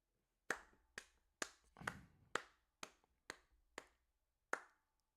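Slow, deliberate hand claps, about nine separate sharp smacks spaced roughly half a second apart, fairly close and quiet, with no talking over them.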